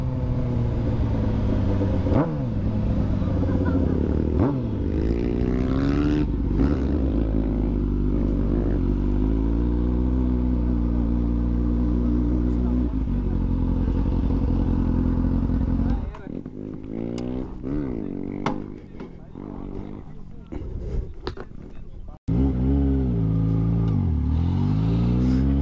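A motorcycle engine revs repeatedly in rising and falling surges, loud and close, with someone talking over it throughout.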